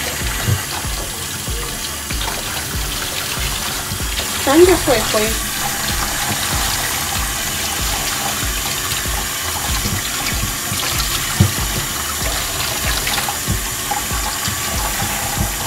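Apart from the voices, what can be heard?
running water rinsing hair during a hair wash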